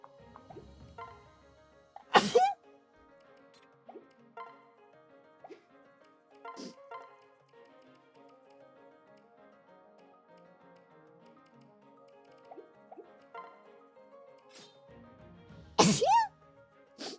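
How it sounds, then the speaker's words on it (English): Two sharp human sneezes, one early and one near the end, burst out close and loud over quiet Fire Emblem Fates 3DS game music with soft plinks. "Bless you."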